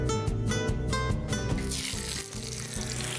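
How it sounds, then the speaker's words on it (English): Hake frying in an olive oil blend in a pan, a steady close crackle and sizzle that swells into a brighter hiss partway through, heard under a layer of background music. "I'm frying it in the Olive Pride blend."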